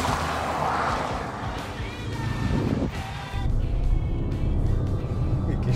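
A 2020 Bentley Bentayga luxury SUV accelerates hard. Its engine gives a deep, rising roar with a brief dip midway, loud and close.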